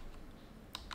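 Quiet computer keyboard typing as code is entered, a few soft, light key clicks close by over a faint background hum.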